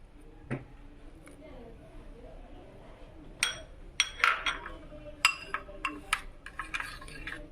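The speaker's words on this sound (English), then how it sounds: "You just need to give it a light stir." A utensil lightly stirs a green tea gel face wash mixture in a container, giving soft, scattered clinks and taps that cluster in the latter half over a quiet background.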